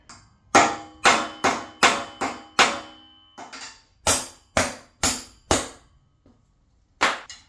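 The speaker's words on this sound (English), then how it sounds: "What about smacking that with a hammer?" Sharp hammer strikes on a spark plug to crack its porcelain insulator, about a dozen loud close impacts in an uneven series with short gaps and a longer pause before a final blow.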